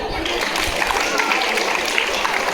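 An audience claps at a school event, a loud, continuous wash of applause filling the hall, with voices mixed in among the crowd.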